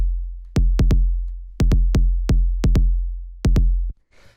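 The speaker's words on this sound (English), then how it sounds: "like 808 style, just really thumpy, deep kick like that" A deep, thumpy 808-style electronic kick drum sample in a gritty electro track at 130 BPM strikes in a repeating, syncopated pattern. Each hit is loud and booming with a long decaying sub tail, playing alone before a faint noisy wash at the end.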